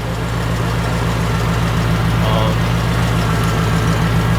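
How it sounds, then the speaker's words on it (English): A car engine idles steadily with an exhaust leak and ticking fuel injectors, giving a constant low, pulsing drone with a rapid faint tick running throughout, close and fairly loud. "So there is an exhaust leak on the car. I think the fuel injectors are ticking, right?"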